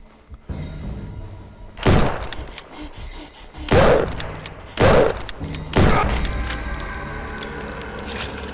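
Several loud gunshots crack out outdoors at an uneven pace, four sharp blasts spaced about a second or two apart with lingering echo and low background noise between them.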